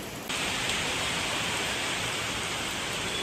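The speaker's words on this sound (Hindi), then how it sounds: "बहुत तेज़ बारिश हो रही है।" Heavy rain pouring outside at night with wind, a dense, steady roar of downpour filling the whole span, loud and close, with no talking.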